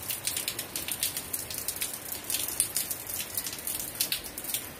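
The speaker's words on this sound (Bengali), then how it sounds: "দেখো বাইরে কেমন জোরে বৃষ্টি শুরু হয়েছে" Heavy rain falls outdoors in a steady, loud wash of patter and splashes that never lets up, with no voices.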